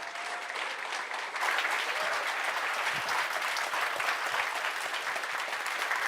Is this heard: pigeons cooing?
no